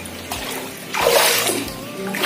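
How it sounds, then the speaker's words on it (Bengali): Storm water flooding a bathroom, a close, sloshing, rushing wash that swells briefly in the middle and then settles into a steady watery trickle. "দেখো বন্ধুরা বাথরুমে পুরো জলে জল হয়ে গেছে"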